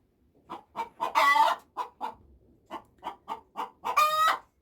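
Chickens at a homestead coop give a quick rhythmic run of close clucks, broken by two louder drawn-out squawks, with no one talking.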